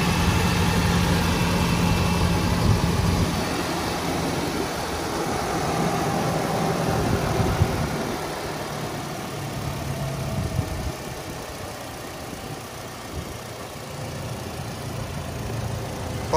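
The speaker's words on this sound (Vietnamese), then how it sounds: "Đây là toàn bộ cái phần tiếng động cơ máy đang nổ đây." A 2017 automatic Toyota Fortuner idles steadily for the whole stretch, a smooth, even engine rumble heard close up with no talking over it.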